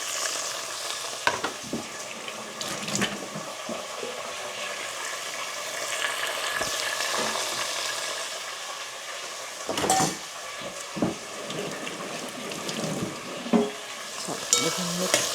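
Green peas, beans, green chilies and tomatoes sizzle and are stirred in a hot pan, with a constant frying hiss broken by scraping spatula strokes, close and steady, with no speech.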